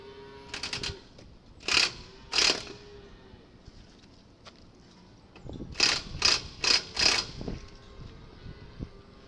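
A hand ratchet tightens a bolt in a shop: a few quick clicking bursts, a pause, then four more rapid bursts, close and fairly crisp against a quiet background.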